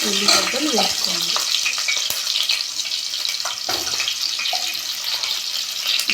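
Onions frying with browned fenugreek seeds in oil, a bright steady sizzle with a loud wet burst as they go in and some stirring scrapes afterward.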